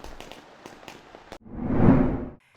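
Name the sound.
fireworks exploding over the island at night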